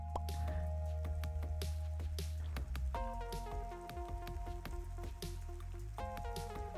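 Rain falling in the video game Necesse, a steady patter of raindrops and drips at moderate loudness under tonal game music, without talking.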